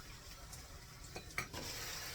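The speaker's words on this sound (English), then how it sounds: "I need to start stirring mine a little bit." Cowboy casserole with milk is stirred in a pot: faint, soft scraping and swishing of a utensil with a light sizzling undertone, quiet and close.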